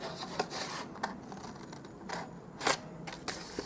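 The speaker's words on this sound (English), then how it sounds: "We'll cut that off there" Scissors cut cardstock for a gift box with a few short rasping snips close up, spaced irregularly and fairly quiet, with no talking.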